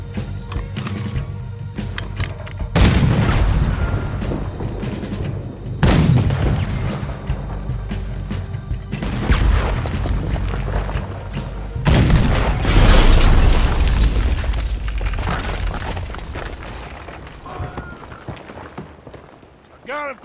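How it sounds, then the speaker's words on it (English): Cannon fire in the video game Red Dead Redemption 2: three heavy booms a few seconds apart, each loud and close with a long rumbling decay, over steady background game noise. "Use the cannon, Arthur."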